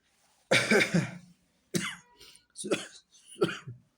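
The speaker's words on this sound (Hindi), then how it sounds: "खांसी है थोड़ी सी" A man coughs several times in a row, one harsh burst followed by shorter repeated coughs and throat clearing, close and fairly loud.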